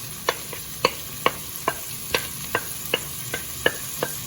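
Chicken fried rice with capsicum and garlic being stirred in a hot pan, a regular series of about a dozen sharp spatula scrapes and clinks over a faint background sizzle, close up with no speech.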